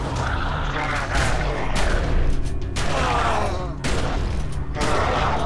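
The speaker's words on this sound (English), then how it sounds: "I didn't realize the shotgun blast went that far." Shotgun blasts from the video game The Secret World come as several loud, sharp booming bursts over a dense, busy game soundscape of explosive, crackling noise.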